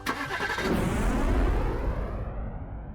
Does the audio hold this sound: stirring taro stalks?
no